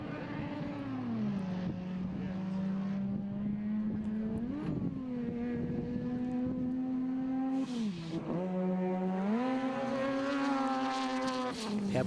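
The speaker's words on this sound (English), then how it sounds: "How bloody good does that car sound, hey?" Race car engine at a forest enduro rally, loud and close, holding a steady drone that dips and rises through gear changes and throttle blips, with a faint voice underneath.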